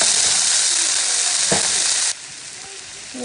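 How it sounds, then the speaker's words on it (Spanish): Onion, garlic, bell pepper and tomato sizzle steadily in a hot pan as they fry, with a loud continuous crackle that suddenly drops to a quieter hiss partway through. "le vamos a echar el chile morrón y el tomate. Y ahí lo vamos a dejar sofreír por un ratito."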